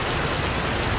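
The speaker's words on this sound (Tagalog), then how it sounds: "lumakas na po ng ulan mga kainsan" Heavy rain pours steadily outdoors in Taiwan, a dense, continuous hiss and patter on surfaces with no pauses, loud and close throughout.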